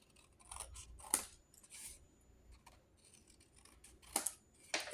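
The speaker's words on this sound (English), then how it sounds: "You're going to cut them at an angle." Scissors snipping paper at an angle for a handmade baby mini album pocket, a few crisp close cuts spaced out with quiet pauses between them.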